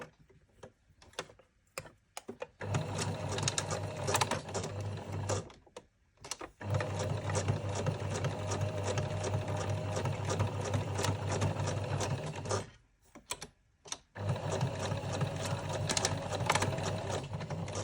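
A sewing machine stitches along the edge of fabric for a zipped pouch bag, running in three long steady whirring bursts with brief pauses between them, close and clear with no talk.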